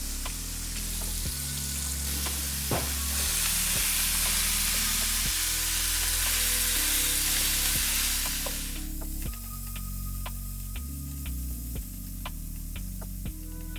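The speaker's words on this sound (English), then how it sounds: "First thing we're gonna do is cook our meat." Beef for a beef and pepper casserole sizzles steadily in a pan, a continuous broadband frying hiss that swells partway through and then settles into quieter crackling with scattered pops, no voices.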